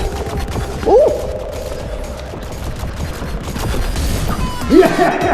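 Bursts of futuristic gunfire in the VR arena shooter Space Pirate Arena, two short zapping blasts a few seconds apart over rumbling game noise.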